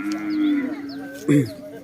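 Cow at a cattle market in Sakon Nakhon, Thailand, giving a long low moo followed by a shorter, louder second call, close by with faint market background.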